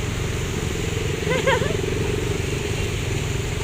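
A motorcycle engine drones steadily while riding through flood water on a city street in Cebu, with a constant rushing, churning wash under the low motor hum and a brief voice in the middle.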